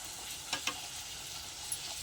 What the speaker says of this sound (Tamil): பூரி உள்ளார போட்டு நல்லா இப்படி எண்ணெயை மொண்டு ஊற்றுங்க பூரி மேலே